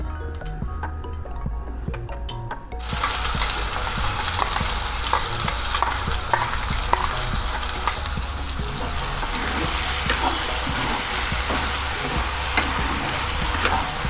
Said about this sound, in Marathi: परीसाठी आपण एक चमचा तेल घेतलेलं आहे गरम करून घ्यायचं आणि ह्याच्यामध्ये थोडीशी साखर टाकायची